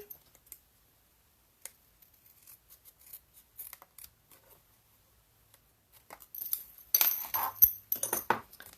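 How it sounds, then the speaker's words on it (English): Scissors trimming excess card stock for a handmade card, a scattering of faint snips and clicks that build into a closer, denser run of cutting near the end. "we're going to trim off this excess like so"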